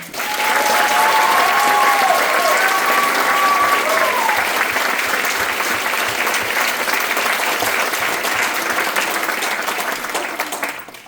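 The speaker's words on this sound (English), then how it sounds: "could I just get a quick round of applause for them?" Graduation audience breaks into loud, sustained applause that swells quickly and slowly fades out near the end, with a few cheers rising above the clapping.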